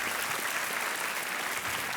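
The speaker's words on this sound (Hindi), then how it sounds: "तालियों के साथ हम इनका अभिनंदन करते हैं" A quiz show studio audience applauds a contestant, with dense, steady clapping at full volume throughout the short burst.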